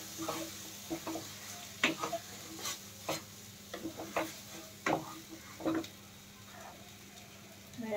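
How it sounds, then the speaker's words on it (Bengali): Teasel gourd curry being stirred and mixed in a pan, a quiet sizzle under repeated scraping and clicking strokes of a spoon against the pan at an uneven pace. "একটু ভালো করে সবটা মিশিয়ে নিতে হবে।"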